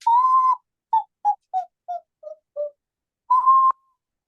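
A human voice whistles an imitation of the black-eyed urutau (potoo) call: a long mournful note, then six short notes stepping down in pitch, and a final long note, clear and isolated.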